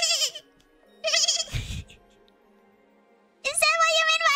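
A goat bleats in a wavering, voice-like cry, with two or three separate bleats broken by a thudding pause. It may be a voice imitating the animal.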